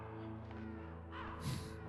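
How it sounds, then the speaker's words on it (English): Ravens cawing in Metal Gear Solid, a brief cluster of harsh calls rising out of a steady low game drone and music bed toward the end of the moment. "Damn, those ravens are very efficient."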